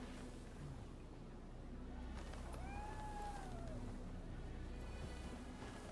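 A calico cat in the video game Rise of the Ronin gives a single drawn-out meow in the middle, faint against a steady low game ambience.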